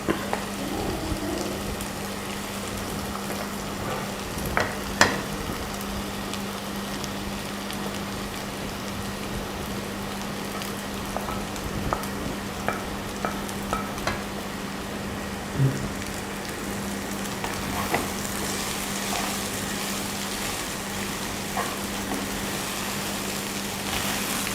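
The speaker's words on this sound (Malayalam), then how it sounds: "ചിക്കി ഇളക്കി ഇത് മൂപ്പിച്ചാൽ മതി" Fish and drumstick leaf thoran stir-fried in a pan, giving a steady soft sizzle with scattered clicks and scrapes of stirring throughout, moderately close and without voices.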